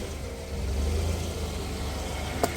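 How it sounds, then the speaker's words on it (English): An SUV rolls over a flashlight, its engine a steady low rumble close by, with a short sharp knock near the end as the tire meets the light. "I'm going to run it over with my SUV."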